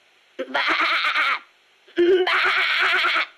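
A person imitates a sheep, giving two drawn-out, wavering bleats close up, separated by a short pause.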